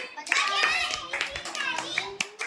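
Children clap their hands along to a Hindi nursery rhyme in a classroom activity, sharp claps scattered through bright young voices chanting close by.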